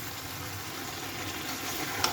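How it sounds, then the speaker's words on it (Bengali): Ground cumin, turmeric and chili powder fry in a pan for a chicken and potato curry, giving a steady, quiet sizzle with no voices and one small click near the end. "এখন এটা এখানে ভেজে নিব"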